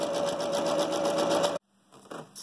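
A sewing machine stitches fabric for a chicken-shaped door weight in a steady, fast whirring run, then stops abruptly and leaves quiet handling sounds.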